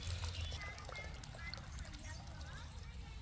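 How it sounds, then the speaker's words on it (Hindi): Water is poured generously into the pot of a potted mango plant, a soft continuous splashing and trickling, with a voice talking over it. "आपको भरपूर पानी तब तक देना है जब तक ऊपर तक पानी ना आ जाए"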